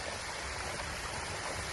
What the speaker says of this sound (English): you can see water flowing freely out of it, joining the watercourse on the street and down the drains